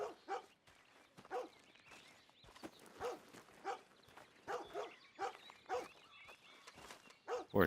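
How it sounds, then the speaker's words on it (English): Barking from a dog in a video game, a run of short repeated barks spread across the clip at moderate, steady loudness with no talk over them. "Poor dog."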